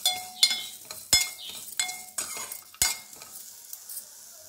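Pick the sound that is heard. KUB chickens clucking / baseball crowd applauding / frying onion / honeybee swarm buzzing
frying onion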